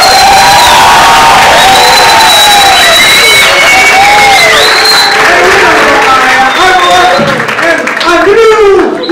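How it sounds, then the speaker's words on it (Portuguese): An audience at a sports and physical-culture show applauds, cheers and whoops loudly and steadily, with children shouting and a voice calling out over the crowd noise. "Vamos aplaudir."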